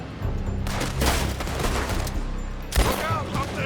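Gunfire pours from a building in Red Dead Redemption 2, a dense, continuous volley of overlapping shots punctuated by one heavier blast near the end.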